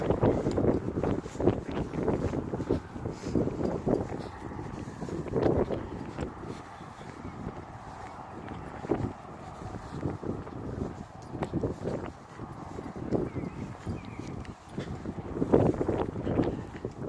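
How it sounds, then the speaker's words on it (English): Steady gusting wind outdoors on an evening walk, a continuous broad rushing that swells and eases throughout, rough and close like wind buffeting a microphone. "That wind's picking up."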